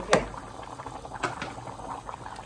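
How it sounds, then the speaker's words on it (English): Vegetables in a pot bubble at a steady low simmer, with soft popping and a couple of sharper clinks near the start. "keep boiling till it gets really soft"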